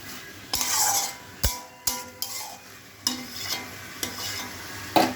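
Chicken and ground black pepper being stirred in a sizzling pan, with a utensil clacking and scraping the pan in separate strokes over a constant close frying hiss, and no voices.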